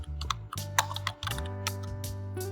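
Computer keyboard keys tapped in a short run of quick, close clicks while a word is typed into a search box, with a brief pause partway through.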